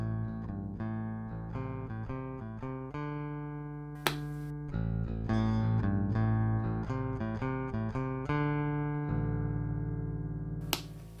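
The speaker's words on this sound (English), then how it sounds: "if I pull the volume control out to split the coils" Harley Benton 25th Anniversary Firemist bass guitar with its pickup coils split, playing a steady run of plucked notes with a couple of sharp slaps or pops; close and clear with no speech.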